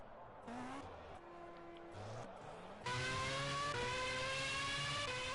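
A Formula A race car in a racing game set at Le Mans idles and revs while warming up, with rising and falling engine tones in separate steps, then a louder, fuller drone.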